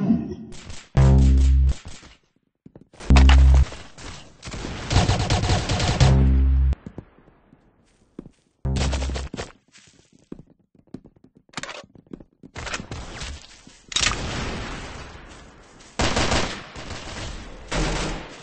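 Bursts of loud, close video game gunfire come in several clusters of rapid shots with short pauses between, punctuated by heavy impact thuds.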